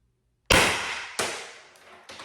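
A Salt Supply S2 air gun with an O-ring upgrade fires one sharp, loud shot indoors, followed by two fainter echoing cracks.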